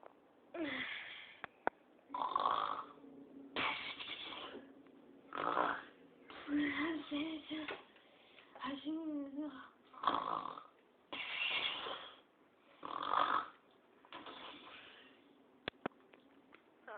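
A person imitates a pig-like snore with a run of rhythmic snorting inhales, about eight of them, spaced by short pauses and heard up close with no other sound.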